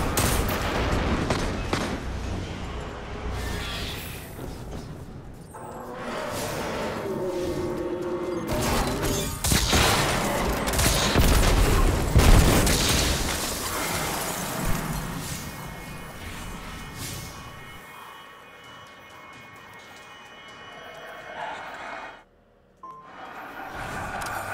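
Shotgun blasts and rapid gunfire ring out in the video game Nightfall on the Strange Terrain map, dense and loud for most of the stretch, then thinning into a quieter lull near the end.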